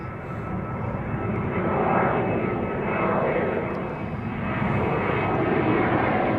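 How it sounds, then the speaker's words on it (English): Embraer 190 jets take off at Amsterdam Schiphol, their engines making a continuous, moderately distant roar that rises and falls gently in waves. "Embraer 190s are taking off and are already quite high in the sky."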